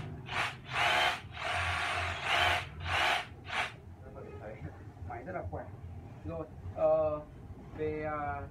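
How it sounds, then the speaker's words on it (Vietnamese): A Dewalt cordless hammer drill, model DCH263, runs in hammer drilling mode in several loud, close, rattling bursts of a few seconds each, then stops while someone talks. "Đây là chức năng khoan có búa này."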